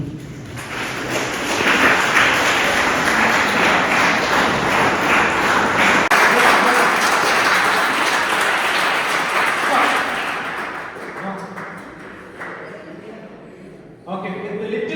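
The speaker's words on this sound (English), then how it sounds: "All of you can clap once." A large audience at a motivational talk claps, a dense, sustained wash of applause that fills most of the span before thinning and fading near the end.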